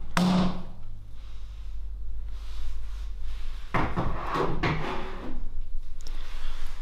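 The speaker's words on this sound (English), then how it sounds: "remove the drawer." A wooden workshop drawer being pulled out, with a sharp knock at the start, then sliding rumbles and wooden thunks and rattles midway, close by with no talk.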